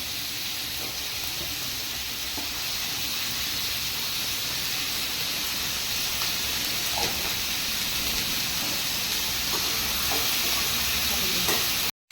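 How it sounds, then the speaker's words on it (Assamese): Ingredients for a paneer butter masala base, including tomatoes, fry in a pan with a dense, constant hissing sizzle throughout, joined now and then by soft stirring scrapes, with no talking. "এইখিনি অলপ সময় ভাজি ল'ব লাগিব।"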